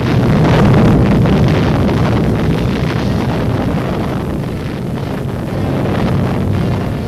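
A 1957 atomic bomb test explosion, heard as a long, loud, rumbling roar of blast wind that buffets the microphone steadily and without pause.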